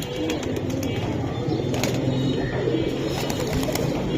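A male Rabbani-line pigeon coos among other pigeons, low rolling calls repeating under a busy coop background with occasional sharp rustles.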